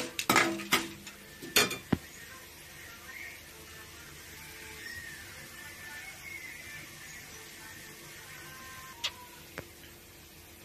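Fenugreek seeds frying in a pan, with a run of sharp metallic clinks and taps at the start and a few more near the end over a faint, steady sizzle.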